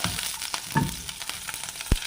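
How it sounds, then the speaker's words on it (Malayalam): Mustard seeds with ginger and green chilli crackling in hot oil for upma, scattered small pops over a faint sizzle, quiet and short. "കടുകൊക്കെ പൊട്ടി കേട്ടോ"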